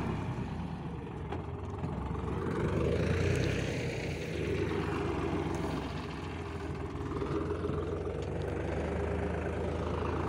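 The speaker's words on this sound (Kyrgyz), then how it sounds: "Өтө сонун трактор экен." A potato-planting tractor's engine runs steadily in a field, a continuous mid-distance diesel drone that swells slightly as it works, with no talk.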